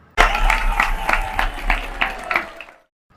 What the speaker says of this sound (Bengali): তারা একযোগে বিলেতি কায়দায় করতালি দিয়ে উঠলেন